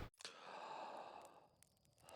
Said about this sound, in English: We awaken with a gasp.